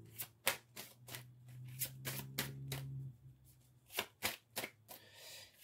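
Tarot cards are shuffled close by in a series of quick riffles and soft slaps, an irregular rhythm of bursts with a faint low hum under the middle stretch.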